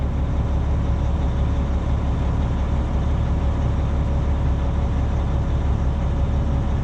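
A dump truck idles with a low, steady diesel rumble, loud and constant with no change in rhythm while it sits building air pressure.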